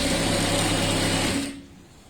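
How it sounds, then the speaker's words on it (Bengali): A sewing machine runs a double line of stitching along the waist of a churidar, whirring loudly and steadily before stopping abruptly near the end. "এখন আমি একটা ডাবল সেলাই দিয়ে নিব পুরো মাজাটা।"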